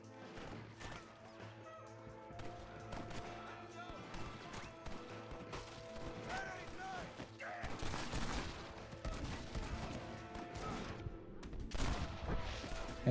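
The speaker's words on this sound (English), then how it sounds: "I'm getting shot again" Enemy gunfire aimed at the player in a video game, a dense stretch of sharp cracks and impacts layered over a steady game soundtrack that grows louder toward the end, with a voice talking over it.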